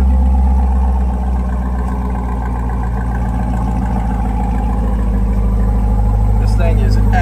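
A Corvette C8 with an Eventuri carbon fiber air intake idles steadily, a deep, loud, constant rumble with a faint airy intake hiss throughout.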